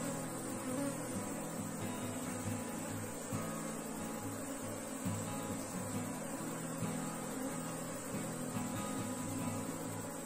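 Honeybees hum and buzz densely around an opened beehive frame, a steady, close swarm drone holding for about ten seconds with no voices.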